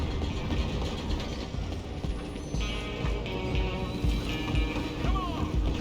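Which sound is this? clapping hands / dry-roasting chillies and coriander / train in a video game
train in a video game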